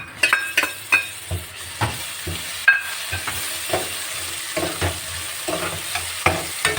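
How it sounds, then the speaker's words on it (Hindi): Garlic dropped into lightly browned onions sizzles and fries in a pan while being stirred for an okra (bhindi) curry, with repeated stirring scrapes and a steady close sizzle throughout, no talking. "अब हमारे प्याज हल्के ब्राउन हो चुके हैं, तो अभी हम इसके अंदर डालते हैं लहसुन।"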